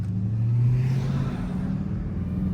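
A 1000hp hoodless Dodge Demon 170 Charger sliding through a turn, its engine holding a loud, steady low droning rumble with a slight swell in pitch, heard close from inside the car.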